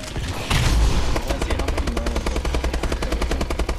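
Rapid automatic gunfire from a zombies video game, loud and continuous with a dense rhythmic burst of shots after an initial heavy blast.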